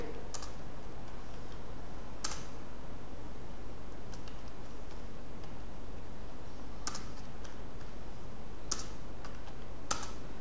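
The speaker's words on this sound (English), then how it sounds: "I'm typing here." Sparse, sharp computer keyboard keystrokes sound close by against a steady hiss, coming singly or in small clusters with long gaps between them.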